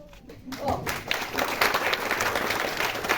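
An audience applauds at the opening of Soundela 2022, a music workshop event in Lubawa, with steady, fairly distant clapping that continues throughout while a voice speaks over it.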